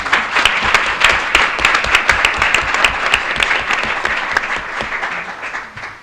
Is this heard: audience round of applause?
yes